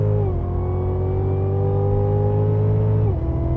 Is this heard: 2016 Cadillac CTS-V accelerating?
yes